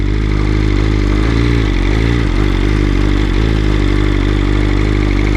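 A BMW M 1000 RR superbike running through woods, its engine a steady loud drone with small pitch dips as the throttle shifts over rough ground, close and continuous without talk.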